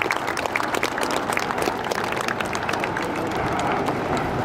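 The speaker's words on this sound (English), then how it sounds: "Let's have a cheer and a round of applause" Crowd at the Red Arrows display during the Portrush Airshow claps in a dense, steady patter of applause that fills the whole stretch, with no talk over it.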